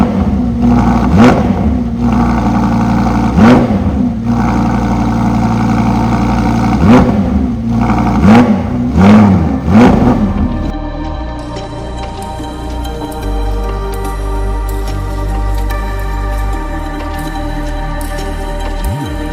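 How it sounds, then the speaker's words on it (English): A 2023 Audi R8 with its particulate filter deleted fires up on a dyno and is blipped in repeated sharp revs that each climb and fall back, loud and close, before it settles into a steady, burbling idle. "Now we haven't started the car up yet, so I am gonna start it up right now,"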